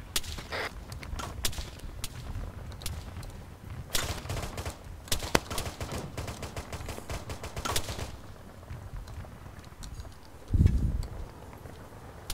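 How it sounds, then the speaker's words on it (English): Rapid gunfire rattles through a military operation in a video game, with dense bursts of shots and scattered cracks over several seconds, fairly faint and steady, easing off toward the end before a low thump. "we're taking fire from the northwest"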